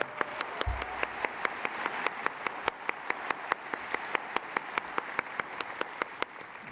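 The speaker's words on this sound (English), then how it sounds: "So, just a big applause for them," Audience applause at a conference opening ceremony for the program assistants, a steady, dense wash of many hands clapping at moderate distance with sharp regular transients running throughout.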